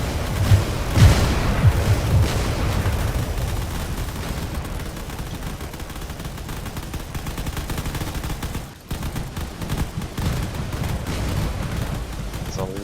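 Rapid, dense bursts of gunfire and booms from combat drones in a canyon battle rattle continuously, loud and layered, with a brief dip partway through and a voice commentating over it.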